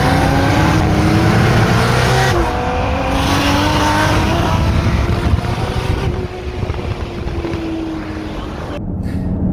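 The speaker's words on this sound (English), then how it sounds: "So Jay raced his RS3 against the Supra." An Audi RS3 and a modified Toyota Supra racing side by side, loud engine roar and revving climbing through the gears, with heavy wind buffeting over the sound throughout.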